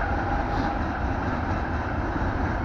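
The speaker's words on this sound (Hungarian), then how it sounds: "Na hát éppen átrapog rajta egy vonat." A train rumbles steadily across a railway viaduct built on the line between Zalalövő and Murska Sobota in the Őrség region, a continuous low, broad roar with no voices.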